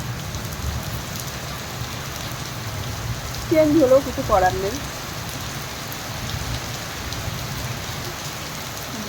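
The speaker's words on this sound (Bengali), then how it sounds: "বৃষ্টি বৃষ্টি" Steady rain falls throughout as a continuous broadband hiss, with a short burst of speech rising above it midway.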